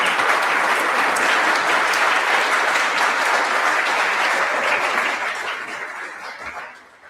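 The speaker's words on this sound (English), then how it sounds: "Another big round of applause for John Gisher." Loud, sustained applause from a conference audience, a dense crowd of clapping hands that holds steady for about five seconds and then gradually fades out.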